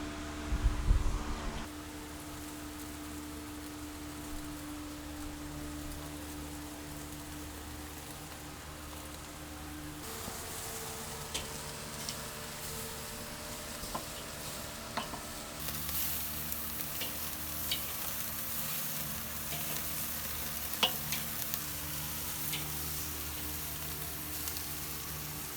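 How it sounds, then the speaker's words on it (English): Filet mignon steaks searing on a grate over screaming-hot lit charcoal give a continuous soft sizzle and crackle, with faint pops and scattered ticks across a steady hiss at moderate distance. "Onto that, we're going to place our steaks for a sear."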